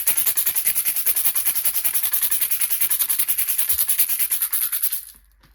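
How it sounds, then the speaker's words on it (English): A rattle is shaken in a fast, even rhythm of bright, hissing pulses, close and loud, continuing for about five seconds before stopping abruptly, with no voices. "So I'm going to shake a rattle and enter into some sound."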